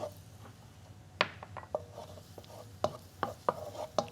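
Garlic and vegetables being stirred in an oiled pan for a tofu stir-fry, soft background sizzle broken by irregular spatula knocks and scrapes, close and fairly quiet, no talking.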